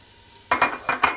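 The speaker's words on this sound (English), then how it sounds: "now I'm going to add all the bits of bacon that we cut up" Bacon bits tipped into a hot soup pot for leek and bacon soup, a quiet hum giving way to a burst of sizzling with a few scraping, clinking stirs close by.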